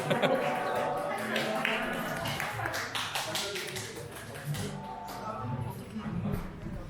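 Guests at a child's first birthday party clap in a busy patter that is strongest early on and thins later, with people talking and voices mixed in throughout.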